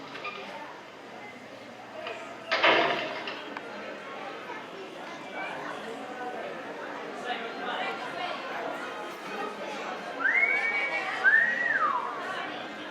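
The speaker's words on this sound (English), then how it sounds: "You know how to whistle, don't you" Lively crowd chatter and voices fill the scene, and near the end a person whistles two short rising-and-falling notes over the murmur.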